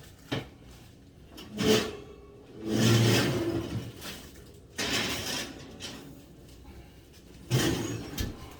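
Oven door opening and closing as a tray of blondie batter goes into a 355-degree oven, several separate clunks and thuds with metallic rattles of a pan spread across the moment, close by and fairly loud.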